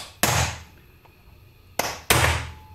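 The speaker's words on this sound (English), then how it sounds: "sometimes it's best to just shock the bolts loose, like with a punch, like this." Three sharp metallic strikes of a hammer on a punch hit the bolts of a T5 World Class transmission, one ringing blow followed after a pause by two quick ones, each close and loud with a short ring.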